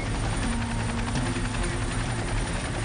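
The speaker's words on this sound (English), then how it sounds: "The helicopter drops Priscilla a life ring" A rescue helicopter hovers over an icy river, its steady rotor and engine roar filling the air loud and unbroken throughout, with no voices.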